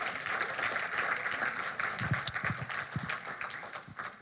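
A church congregation claps and cheers in praise, a dense steady patter of applause filling the room with a few louder hand claps standing out near the end.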